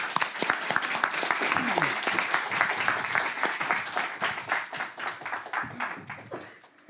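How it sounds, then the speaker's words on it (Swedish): A university lecture audience claps warmly and continuously for a guest speaker, the applause holding steady before gradually thinning out toward the end. "Och med detta så vill jag ge en varm applåd till Kjell Svensson och be honom komma upp."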